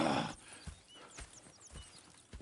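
Faint, sparse hoof thuds from horses in Red Dead Redemption 2, a few soft clops spaced out over a quiet game background, no talking.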